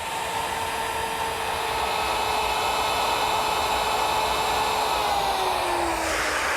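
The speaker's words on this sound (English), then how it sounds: "I'm going to use a router with a chamfering bit that has a ball bearing guide." A router fitted with a ball-bearing-guided chamfering bit cuts a wood edge with a loud, continuous high whine that holds steady and then drops slightly in pitch near the end as it bites into the timber.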